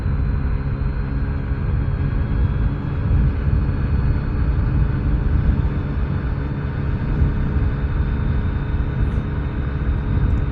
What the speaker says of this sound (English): So here we go, wide open throttle